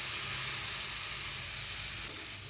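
Ground tomato paste hits a hot pan of chicken and sizzles loudly and steadily, a dense continuous hiss that eases slightly toward the end, with no voices.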